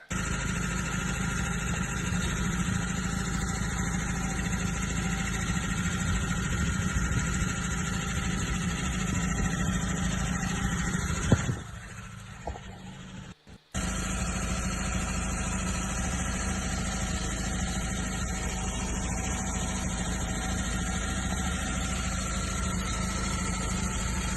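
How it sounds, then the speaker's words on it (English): A car engine idles steadily in icy cold conditions with a rough, odd-sounding tone, a continuous close hum that cuts out briefly partway through before resuming. "Wow, you really can hear that engine."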